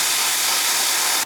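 Spray paint hissing from a can onto the grills of a GP38 model locomotive being weathered, one close, steady burst that cuts off sharply.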